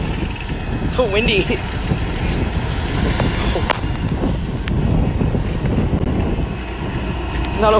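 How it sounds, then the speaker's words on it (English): Wind blowing outdoors by a store's automatic doors, a loud continuous buffeting roar on the microphone throughout, with voices talking over it. "So windy."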